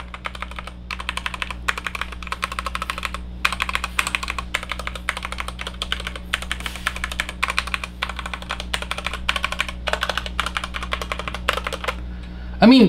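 Continuous typing on a MageGee MKSTAR75 keyboard for a sound check, a steady run of close, crisp keystrokes with short pauses, over a low constant hum, ending in a brief louder burst.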